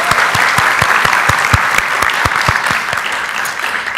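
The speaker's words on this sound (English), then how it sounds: "Let's give him a round of applause." An audience at a school board meeting claps loudly and steadily, with dense continuous applause and a few sharp individual claps standing out nearby.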